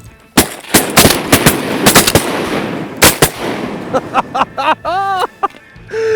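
Loud, close shotgun blasts fired at flying mallard ducks during a Texas duck hunt, several sharp reports in quick bursts, followed by duck calls and quacking sounds near the end.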